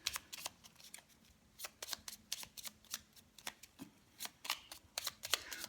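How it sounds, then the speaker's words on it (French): A deck of tarot cards is shuffled by hand nearby, a quiet sequence of crisp riffling flutters and soft taps in irregular bursts. "Je vais mélanger mes cartes."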